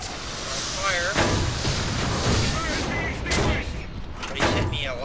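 An M3 Stuart tank in War Thunder takes repeated shell hits, heard as loud, dense booms and crashing impacts over continuous rumble, with someone talking over the din.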